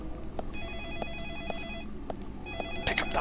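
A telephone rings repeatedly in the video game Deadly Premonition, an electronic trill repeating in regular bursts at moderate volume against low background game ambience.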